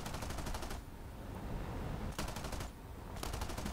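Machine guns of an F-80 jet firing in the War Thunder game: loud sustained bursts of rapid, evenly spaced shots, with three separate volleys over steady engine roar.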